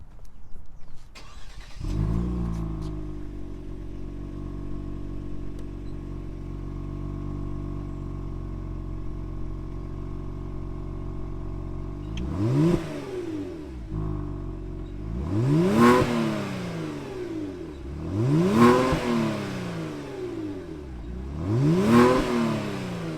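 A 2020 Kia Stinger GTS engine starts and settles into a steady idle, then is revved hard three times in a row, each rise and fall loud and close.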